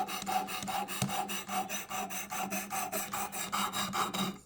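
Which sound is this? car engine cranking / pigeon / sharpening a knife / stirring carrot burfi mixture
sharpening a knife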